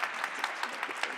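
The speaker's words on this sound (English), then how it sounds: "let's give Michelle and Mariah a round of applause" A conference audience applauds presenters of a data analytics talk in brief, steady, moderately loud clapping with no voices.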